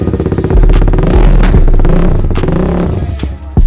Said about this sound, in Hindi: थ्रॉटल देना, एक बार थ्रॉटल देना, बहुत जबरदस्त।